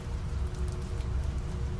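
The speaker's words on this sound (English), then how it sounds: "heavy downpour." A heavy rain downpour roars steadily, dense drops drumming on surfaces with a deep rumbling undertone and a faint hum, constant and close with no voices.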